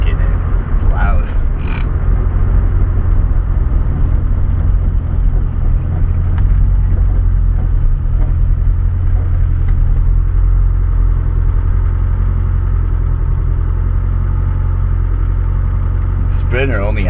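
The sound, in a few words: Ford Festiva car engine idling, quiet exhaust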